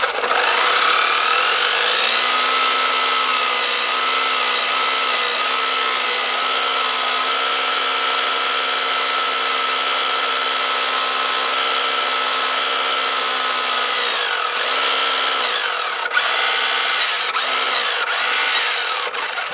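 A Maisto RC RB19 F1 1:10 scale RC car's electric motor whines loudly and continuously, its pitch rising and holding before dropping and revving in short bursts near the end, with no talk.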